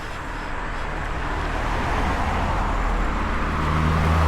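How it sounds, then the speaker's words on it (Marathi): Steady cabin rumble of a Hyundai Creta driving on the road, a continuous broadband engine and tyre roar that gradually grows louder, with no talking. "संग्राम साहेबांची क्रेटा पहिल्यांदा चालवली मी आज"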